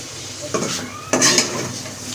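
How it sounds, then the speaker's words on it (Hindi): A spoon stirs chicken mince (keema) filling in a pan, giving two short, close metallic scrapes against the pan over a faint background hiss. "अब इसको मिक्स कर देते हैं अच्छे तरीके से"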